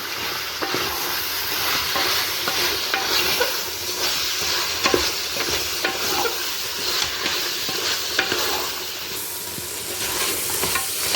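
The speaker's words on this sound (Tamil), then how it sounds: "கொத்தமல்லி, பச்சை மிளகாய் இதை போட்டு நல்லா கிண்டி விடலாம்." Coriander leaves and green chilies are stirred into a pot of country chicken biryani, loud continuous sizzling with repeated rhythmic scraping strokes of the spoon against the pot, close up and without talk.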